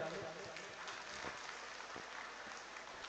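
An alumni audience at an engineering college meet applauds, a continuous wash of clapping lasting the whole moment, steady and dense, with a voice faintly underneath.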